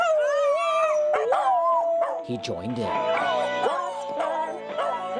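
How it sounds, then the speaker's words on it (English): A dog howls and yodels in long, wavering tones, singing along with music played through stereo equipment, loud and close, with a person speaking over it. "His bark, yodel, howl, or whatever you call it"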